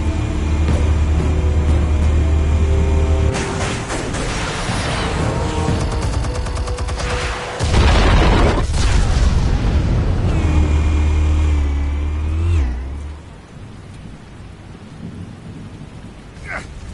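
Explosives detonating in Batman: The Telltale Series, a heavy rumbling blast that roars for several seconds, cuts out, then erupts again before fading into a lower, quieter tail.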